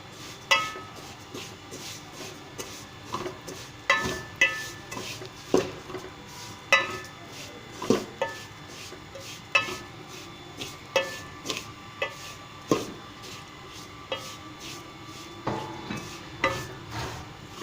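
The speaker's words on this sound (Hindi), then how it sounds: "अभी इसमें सवैयाँ शामिल कर लेता हूँ सारी की सारी। इसको अच्छे से मैं भून लेता हूँ साथ।" Vermicelli roasting with cardamom in a pan, stirred with a utensil that scrapes and knocks against the metal in a steady, repeated rhythm of close, moderately loud clinks, with a soft low sizzle underneath and no talk.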